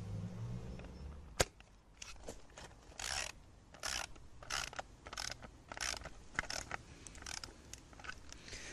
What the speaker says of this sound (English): I'm just going to literally give the bolts a quick tighten with the socket set